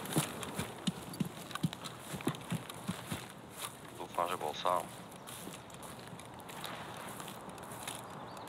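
Footsteps of another player in a video game, soft and irregular steps sounding like hooves clopping at moderate distance, with scattered thumps and a brief voice speaking partway through.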